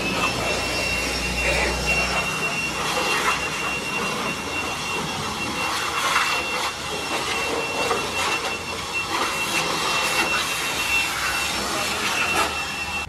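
A compressed-air blower hisses steadily and loudly across a Honda Civic after a service, a continuous broadband rush with slight fluctuations and no pauses.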